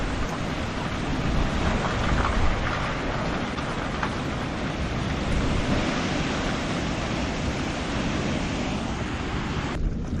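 Strong wind from a severe storm in Pennsylvania roars steadily and loudly, buffeting the microphone in gusts, with no speech over it.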